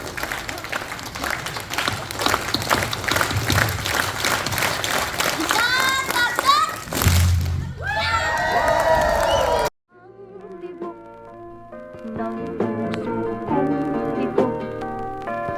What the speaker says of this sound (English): we all clap as one in unity, one big clap. And you can hoot and holler if you'd like.